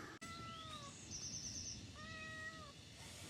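A house cat meows from indoors after being left alone while people set up on the driveway: two drawn-out, fairly quiet meows about a second apart, with a faint high chirp between them.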